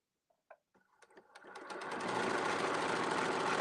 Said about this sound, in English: So I just sew for a little bit and then I line it up.